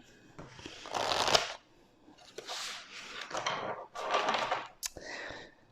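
Tarot cards shuffled by hand ahead of a single draw, three or four dry riffling bursts separated by brief pauses, close and fairly soft, with no talking.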